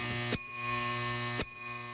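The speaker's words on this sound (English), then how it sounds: "only takes a few milliseconds in order for the bell to be whacked" An electromechanical bell inside a Lionel 2343 Santa Fe toy train locomotive is struck twice by its solenoid, each sharp metallic ding about a second apart and ringing on over a steady mechanical hum, with no talking.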